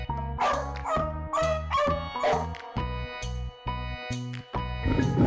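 A dog barks loudly and close in a quick series of about ten sharp, evenly spaced barks with yipping edges, alone without other sounds.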